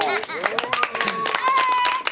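A few people clap at a slam poetry night while a voice talks and sings over the scattered, uneven clapping.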